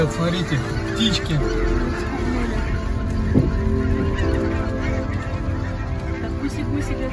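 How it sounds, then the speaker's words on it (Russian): Geese honk repeatedly over a field, the calls mid-distance and scattered through a steady outdoor rumble, with people talking nearby. "Ребят, смотрите, птички."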